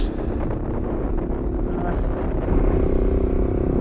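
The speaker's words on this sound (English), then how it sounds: "Yeah, it's windy." Steady wind buffeting a microphone on a motorcycle ride at about 15,400 feet, a low continuous roar with a faint engine rumble underneath.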